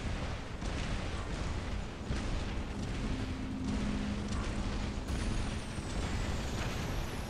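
Rocket volleys slamming into giant robots in the War Robots mech game, a dense continuous roar of blasts and booms with sharp impacts near the start and around the five-second mark, no voices.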